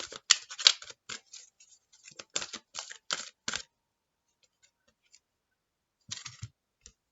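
Large oracle cards being shuffled, quick papery riffling flicks in a rapid burst, a pause, then a short final shuffle, close and crisp with no voices.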